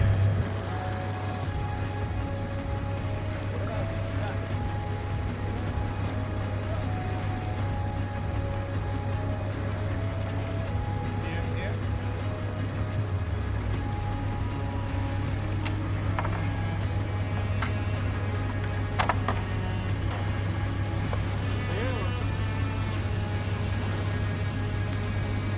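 An off-road vehicle on mud tires with its rear differential locked strains to push through deep mud, its engine droning steadily and fairly close for a long stretch, with a few faint knocks and clatters.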